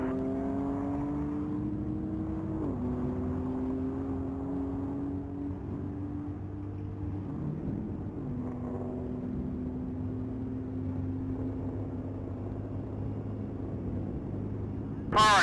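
A 2016 BMW M3 sedan accelerates hard through a one-mile top-speed run, its engine drone rising in pitch between several gear changes and holding a steady high note, heard from a moderate distance with a faint background hum.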